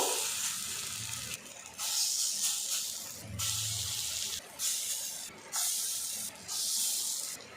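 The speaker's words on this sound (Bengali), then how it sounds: "এবার কাঁঠাল দানার টিকিয়াগুলো তেলের মধ্যে দিয়ে দেব" Jackfruit seed tikkis go into hot oil, setting off loud sizzling hiss that comes in several bursts with brief quieter gaps between, close up.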